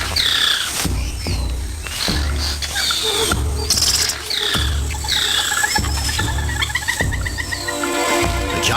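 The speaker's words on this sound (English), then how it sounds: "The squirrel monkey spots a harpy eagle and sounds the alarm, alerting everything in earshot." Squirrel monkey alarm calls in Amazon rainforest canopy after spotting a harpy eagle: repeated sharp high chirps and squeaks in bursts over dense forest ambience with a low rumbling bed, fairly loud and continuous throughout.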